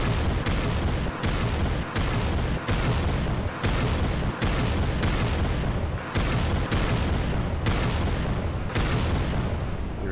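Rockets exploding in Trident Survival V3, a long run of heavy blasts landing one after another at a steady beat, loud and booming with no talk.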